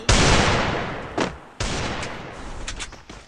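Video game gunfire: loud, close bursts of shots, one long volley, a short crack, then a second sustained volley fading out, with no talk.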